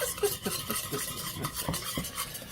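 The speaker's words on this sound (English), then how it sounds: "Worcestershire and soy have been combined. And now I must kind of whisk them." Worcestershire and soy sauce whisked together in a bowl for a London broil sirloin steak marinade, a steady run of quick scraping, clinking strokes close by with no talking.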